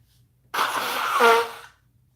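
A woman lets out a single sharp sneeze, close and fairly loud, rising into a brief voiced peak before cutting off into silence.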